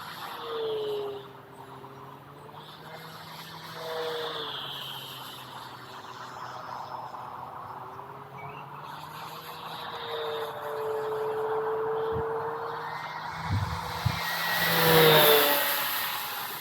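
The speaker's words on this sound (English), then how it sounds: "it's a cool sound from the air tractor when you fly by on 4S full speed" An E-Flite Air Tractor RC plane on a 4S battery flying past at full throttle, its buzzing motor whine rising and falling as it passes, with a louder swell near the end.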